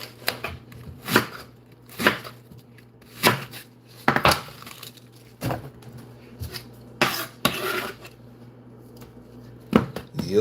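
A knife chops a red onion on a cutting board in a home kitchen, making sharp, distinct thuds spaced about a second apart, with a few quieter taps in between and no talking.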